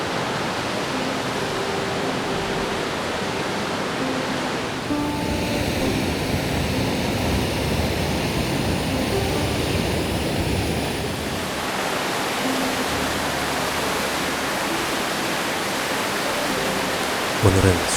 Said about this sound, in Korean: 주상절리에 육각기둥이 떨어져 나가면서 생긴 폭포인데